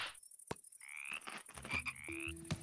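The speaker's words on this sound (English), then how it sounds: "Frogs, look at the frogs!" Frogs croak repeatedly in Minecraft, with several clear game croaks and chirpy calls spread across the scene alongside other soft in-game sounds, and no talking.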